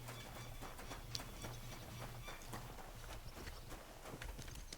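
A horse walks in Kingdom Come: Deliverance II, its hooves making a steady, moderately close clip-clop over a faint constant background hum.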